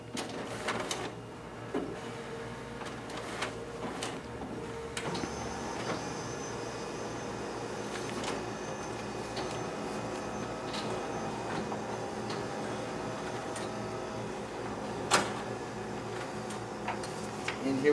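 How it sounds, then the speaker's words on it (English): A Ricoh MP C2051 copier's document feeder pulls test copies through, a steady mechanical whir with repeated ticking and clicking as sheets feed, close and continuous for the whole stretch with no talk. "now we'll go ahead and test out the document feeder on this machine"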